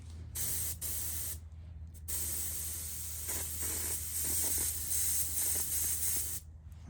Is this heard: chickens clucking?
no